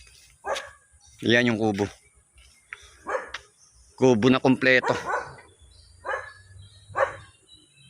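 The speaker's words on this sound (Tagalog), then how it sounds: "Tumatahol na yung aso." A dog barks several times in short bursts at a rural country house, heard under and between someone talking nearby.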